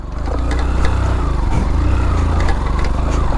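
A motorbike engine runs up close with a loud, steady buzzing drone that continues unbroken for a few seconds, with no voices.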